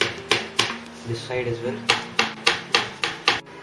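Light pats of chocolate shavings being pressed onto the sides of a black forest cake, a series of soft dull taps in an irregular rhythm, close up, with a person talking over them.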